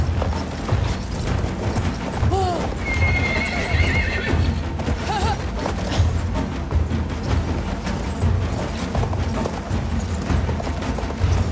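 Horse whinnying and hoof clip-clop in the World War I shooter game Battlefield 1, set against steady battlefield ambience and faint mechanical clicks, with no talking.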